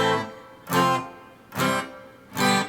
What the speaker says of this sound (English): practice your chords like this, where you just go in as fast as you can, just one strum each